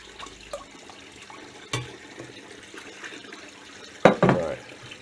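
Tap water splashes as a cooking pot is rinsed out in a kitchen while making chicken and dumplings, a low running trickle with a couple of sharp knocks and a louder splashy burst near the end.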